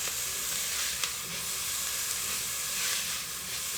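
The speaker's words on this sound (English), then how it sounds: "I'll turn it down and just let them saute very gently" Onions sautéing gently in a pan over lowered heat for a lamb bhuna, giving a steady, soft sizzle and hiss throughout with a couple of faint stirring clicks, close by and with no voices.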